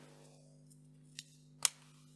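Scissors snip through protective foil during a Lenovo Duet keyboard repair, two short cuts close by, the second sharper and louder, over a steady low hum.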